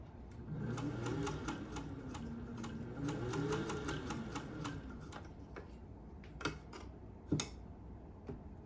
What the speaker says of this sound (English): that is a fairly quiet machine that runs very smoothly